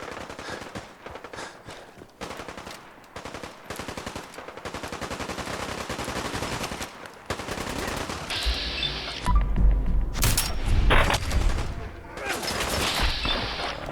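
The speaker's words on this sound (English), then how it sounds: "Sounds like a bit of a firefight over here." Gunfire in a Fallout 4 firefight, with bursts of automatic fire and scattered shots crackling at middle distance and growing denser and louder toward the end, with game sounds mixed in.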